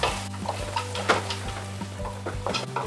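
Corn kernels sizzle in a pan for Mexican esquites while a utensil stirs them, giving a steady close crackle broken by repeated scraping strokes, with no one speaking.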